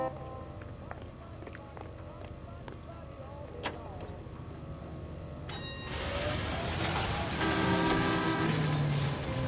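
Streetcar rolling past in the video game L.A. Noire, a rising rumble with metallic rail squeal and a bell-like ring growing louder in the second half over steady background traffic noise.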